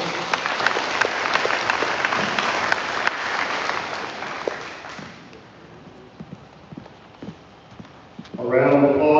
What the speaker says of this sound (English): A round of applause for these students for achieving the middle school level.